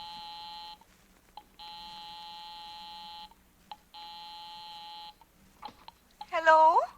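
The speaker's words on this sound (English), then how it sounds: "I'll give 9B a ring first on the house phone." House phone ringing as a radio drama sound effect, three long electronic buzzing rings separated by pauses, fairly clear, followed by a voice at the end.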